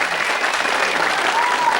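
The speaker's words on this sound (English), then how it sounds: "I'm going to give you a clap." Studio audience at a 1989 Australian television variety show breaks into loud, full applause, a thick continuous burst of clapping with no talk over it.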